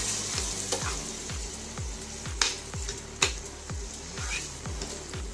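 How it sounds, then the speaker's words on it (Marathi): Grated apple with sugar frying in a pan over a low flame, a steady soft sizzle with repeated rhythmic scraping strokes of a spoon stirring, close and continuous with no talk. "याला छान असं मंद आचेवर भाजून घ्या"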